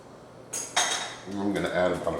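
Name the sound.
fork in bowl while taste-testing potato salad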